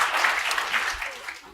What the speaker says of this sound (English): I think that's applause